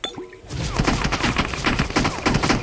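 Rapid gunfire in the mobile battle-royale game PUBG Mobile, a loud burst of quick, repeated shots in an uneven rhythm that starts after a short quiet lead-in and keeps going, with no talk over it.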